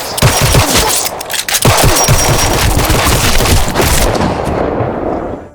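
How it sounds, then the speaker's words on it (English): Dense, rapid gunfire in a film shootout, a police squad member firing a long barrage of bullets, loud and sustained with sharp overlapping bursts throughout. "Walker opened fire, taking him down with a barrage of bullets."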